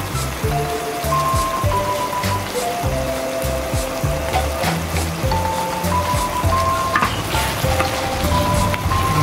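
Bicol Express being stirred in a pan gives off a steady, loud sizzle and crackle throughout, with a simple background melody playing underneath and no one talking.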